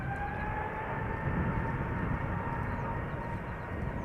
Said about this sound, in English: Double Airbus. The A350, Delta Airlines Flight 73 going to Atlanta